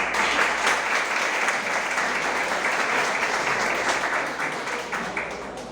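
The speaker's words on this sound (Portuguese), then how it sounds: "Essas palmas são especialmente para vocês" An audience at a municipal health conference in Sapeaçu applauds, a dense, steady round of clapping from many hands that holds throughout and eases slightly at the end.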